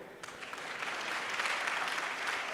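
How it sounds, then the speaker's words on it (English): An audience at a national career conference and exhibition bursts into applause, a dense, steady crowd clapping that swells slightly and holds for a few seconds. "please clap for him"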